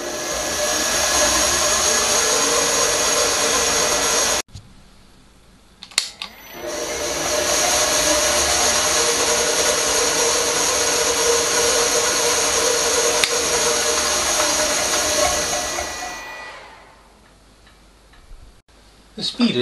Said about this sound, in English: if I start the machine,